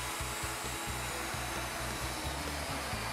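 A router cutting a tenon on a Leigh FMT mortise and tenon jig, moving counterclockwise with the guide pin against the guide. It gives a loud, steady high-speed whine that runs unbroken, with rhythmic low thumps underneath.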